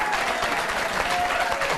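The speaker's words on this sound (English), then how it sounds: "allow them to clap and cheer while he talks about it" A studio crowd at a televised talk show applauds and cheers steadily, a dense, continuous wash of clapping that fills the whole moment without any speech over it.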